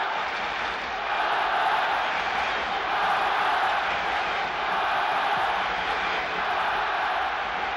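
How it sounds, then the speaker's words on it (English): A huge football stadium crowd roars in support of Barcelona during a European Cup semi-final second leg against Leeds, a steady, dense wall of cheering that swells slightly and holds throughout. "This huge crowd now getting behind Barcelona, seeing a glimmer of hope where none appeared to exist in the first half"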